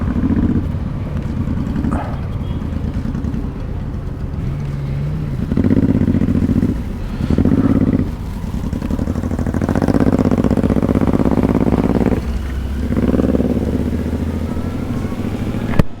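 Motorcycle engines idle and rumble nearby with a steady low drone that swells in a few revs as riders prepare to set off on a weekend two-wheel trip, with some clatter and no talk.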